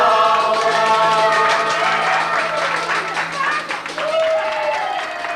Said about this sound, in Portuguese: parabéns à Catarina, uma salva de palmas